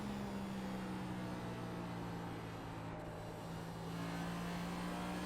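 A NASCAR stock car in the iRacing sim runs at full throttle at Phoenix, giving a steady, loud engine drone with sustained tonal harmonics and no break in the sound, with no voices over it.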